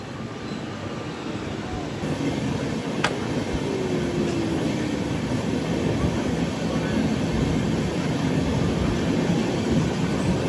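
A passenger train rumbles past steadily for about ten seconds while another train waits at a station, the broadband rolling noise staying loud and even throughout with a brief squeal midway.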